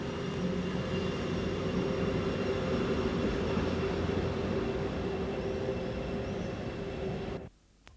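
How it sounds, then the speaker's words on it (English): An old Austrian Class 1020 crocodile electric locomotive rolls toward a servicing area, giving a loud, steady, continuous mechanical hum and rumble with faint tonal whine that cuts off abruptly near the end. "A 45-year-old Class 1020 crocodile locomotive of a type inherited by the Austrian Railways from the Deutsche Reichsbahn at the end of the Second World War retires to the servicing area"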